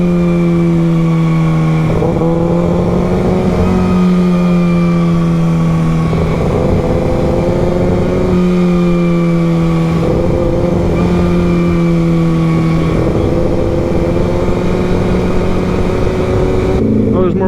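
Several motorcycles ride past one after another, their loud engines rising and falling in pitch in repeated waves over about seventeen seconds of continuous road noise.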